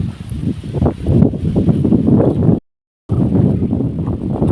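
Gusty outdoor wind buffeting the microphone in loud, rough surges, broken briefly by a moment of silence before the blustery roar resumes.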